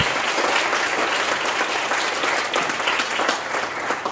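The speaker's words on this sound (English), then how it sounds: "I would like to give her and an entire team a round of applause" A research talk audience applauds, a continuous, even round of clapping from a sizeable crowd that holds steady for the whole stretch without speech.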